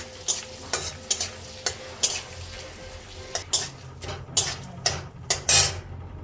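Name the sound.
bay leaves and crushed garam masala frying in a pan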